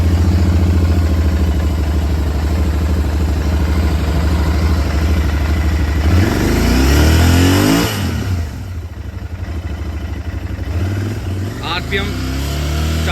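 A 650 twin motorcycle engine idles loudly up close, then revs up briefly around the middle before dropping back to a rumbling idle, with someone talking over it.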